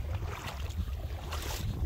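Wind gusting at the seashore on Yeongheung Island during a night foraging trip on the tidal flats, a steady close rumble buffeting the microphone, with no voices.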